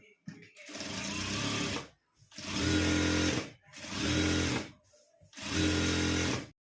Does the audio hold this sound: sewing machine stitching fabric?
yes